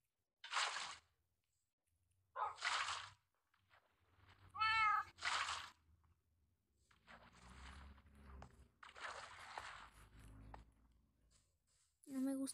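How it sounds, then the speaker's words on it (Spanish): Cat meowing in the Minecraft video game, several distinct separate meows spaced a second or two apart, clear and close, with a quiet voice speaking briefly between them. "Gato, ¿no?"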